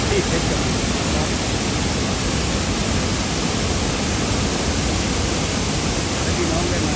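Si Dit waterfall in Phetchabun runs strong, giving a loud, steady roar of rushing water with no break for the full seven seconds and no voices.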